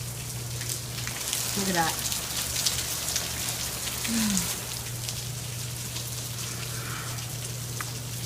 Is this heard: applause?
no